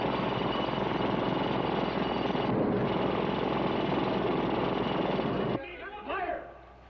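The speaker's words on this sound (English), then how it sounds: "The jackhammer's busted through." A loud jackhammer rattles continuously for several seconds, then cuts off abruptly, followed by brief speech.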